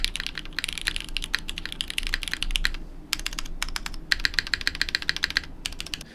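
Fingers type quickly on a Void mechanical keyboard, a dense, close clatter of crisp key clicks with deeper spacebar thocks, in bursts separated by short pauses.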